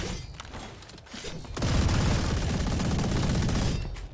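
Rapid gunfire in a Valorant match, a dense sustained burst of shots after a few lighter pops, loud and continuous with no talk over it.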